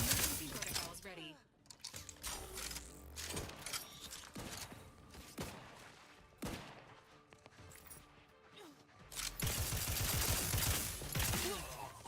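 Video game gunfire in bursts of sharp cracks and rapid volleys, with mechanical clatter, breaking glass and game sounds around them, and speech heard in places.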